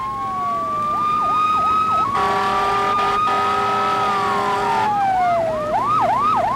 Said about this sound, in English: you could hear the sirens going off.